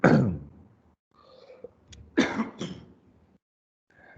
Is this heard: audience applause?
no